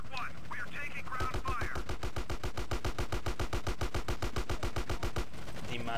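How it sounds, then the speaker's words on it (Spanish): Rapid automatic gunfire from the video game GTA San Andreas, a long fast burst of evenly spaced shots lasting several seconds, loud and close, with a voice talking briefly before and after. "Sí, yo le disparo, Sweet."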